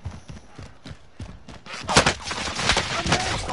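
Gunfire in Call of Duty Warzone, a string of sharp, close shots and bursts. Some are spaced apart and others come in rapid clusters, loudest in the second half, with faint talk mixed in.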